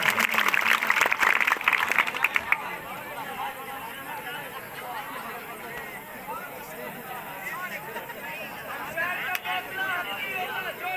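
Audience at an outdoor Pakistani volleyball tournament breaks into a dense burst of clapping for about two seconds, which then fades into steady crowd babble and talk.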